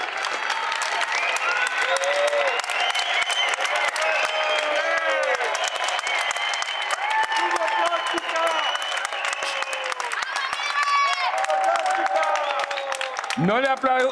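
Sustained applause from a large audience at an event, steady and dense throughout with scattered cheers and voices in the crowd.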